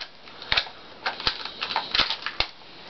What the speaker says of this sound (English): I gotta get the tape out of my Walkman here